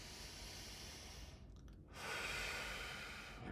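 A single slow, deep breath, a long airy inhale swelling after a brief hush, soft and close against a faint background hiss.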